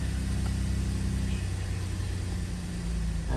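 Repaired Chevy Impala engine running at a steady idle, a continuous low rumble close by with a brief slight rise near the end.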